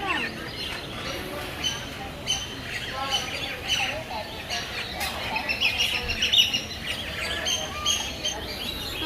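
A stork at Jurong Bird Park in Singapore calls amid a mix of chirps and squawks from other birds, faint and scattered beneath people chatting nearby.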